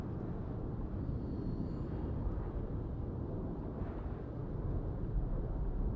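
A military aircraft in the video game Broken Arrow dives in on an attack run, giving a steady, loud, dense roar of engine rumble and gunfire blended throughout, with no speech.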